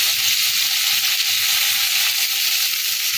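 Thinly sliced bitter gourd hits hot oil in a pan and sizzles, a loud, close, continuous frying hiss with no pauses and no speech.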